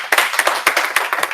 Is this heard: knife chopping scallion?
no